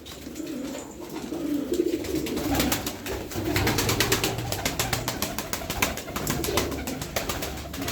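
Turkish performing pigeons coo in low, repeated murmurs alongside a rapid fluttering of wings, with a continuous rustling backdrop close by.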